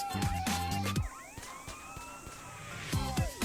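A wailing electronic police siren in the video game GTA San Andreas sweeps up and down over a steady engine drone, loud and close, with a brief rhythmic rumble near the start and end.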